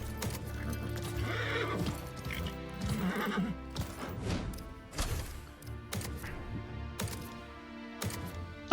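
A horse rears and neighs in a mount emote in the video game Highguard, with a loud whinny over clip-clopping hooves and busy game sounds throughout.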